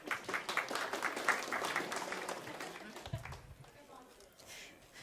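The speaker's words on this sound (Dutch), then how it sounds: "Oh, kijk nog weer klappen." An audience claps for the mayor at a Dutch provincial election results night, a dense burst of applause that thins out and fades after a few seconds, with voices talking underneath.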